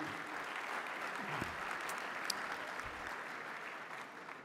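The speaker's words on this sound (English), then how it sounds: "Please, a round of applause for them" Banquet guests at a fundraising dinner applaud honorees for representing Greece. The quiet, distant, even wash of clapping carries on steadily, with a couple of low thumps underneath.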